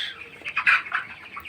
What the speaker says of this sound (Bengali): আজকে বাইশ দিন হচ্ছে আমার মুরগির বয়স